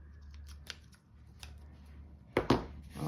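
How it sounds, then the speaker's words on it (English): Scissors trimming ribbon ends on a handmade emboss resist card, a few quiet snips early on followed by two sharp, close cuts near the end in a quiet room. "And then we're gonna trim the ends so that they're a little bit more even here."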